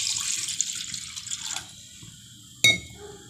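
Water poured from a pot into a pan on the stove while cooking goat liver in a home kitchen: a brief bright splashing pour that tapers off, followed by a sharp clink of metal near the end.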